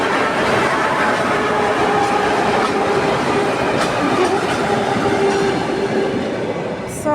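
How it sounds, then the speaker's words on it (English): A suburban train in Dubai rolls past close by, a steady loud rumble of wheels on rails with faint clickety-clack and brief squeals, continuous throughout with no talking. "So this is an ordinary suburban train from Dubai, presumably."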